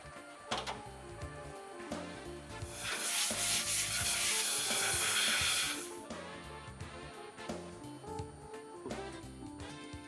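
Fuel valve seating surfaces being lapped with a grinding mandrel and number 500 carborundum compound, giving a steady gritty rubbing and scraping that swells loudest in the middle and then eases back to lighter strokes.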